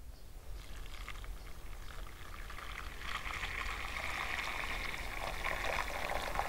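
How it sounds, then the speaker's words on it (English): Stock poured into a pan of softened onions, a faint continuous liquid splash that grows a little louder partway through, recorded alone without talk. "Our onions are nice and soft now, so I'm going to pour the stock in."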